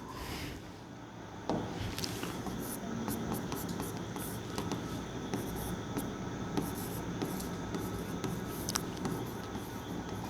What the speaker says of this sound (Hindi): मैं क्वेश्चन लिखता हूं यहां